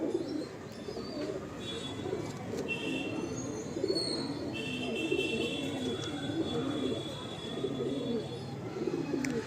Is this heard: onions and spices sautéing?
no